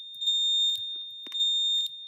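A building fire alarm sounds during an elevator recall test: a faint, steady high-pitched tone runs throughout, with a few soft clicks and knocks nearby.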